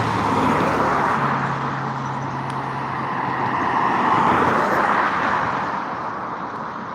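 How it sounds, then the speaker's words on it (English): A Dalton Police Department car, vehicle number 76, drives by on the road, a broad tire-and-engine rush that swells and fades amid steady traffic noise, with a brief low hum partway through. "There goes the Dalton Police Department. Vehicle number 76."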